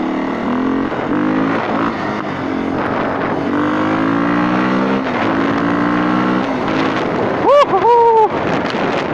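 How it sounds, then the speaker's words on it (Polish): A Beta 450 single-cylinder enduro motorcycle engine revs up and down through gears, loud and close, with wind buffeting and a voice briefly heard. "I ten dźwięk silnika uwielbiam, kocham."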